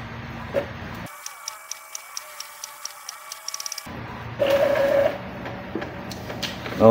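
An Epson L5290 printer at work on a page, giving a run of regular mechanical ticks and clicks, then a quick burst of clicks, followed by louder whirring feed motor noise close by.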